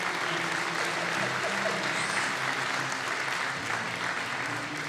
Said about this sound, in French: On peut l'applaudir un petit peu quand même.